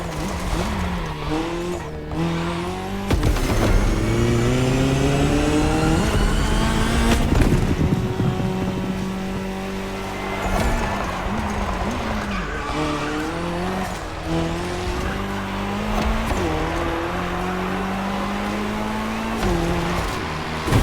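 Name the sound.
racing cars in video game Motorfest, Puma and KTM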